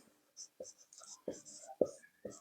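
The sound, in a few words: writing on a board while solving a maths problem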